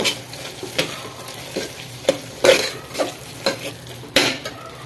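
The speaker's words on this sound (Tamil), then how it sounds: "எல்லாமே போட்டு நல்லா அந்த மசாலா அந்த எண்ணெயிலே கொஞ்சம் நல்லா வதக்கணும் புதினா மல்லி அது வதக்கலாம்" Soya biryani masala with mint and coriander sizzles in hot oil while a spoon stirs and scrapes the pan in repeated close strokes, clear with no talking.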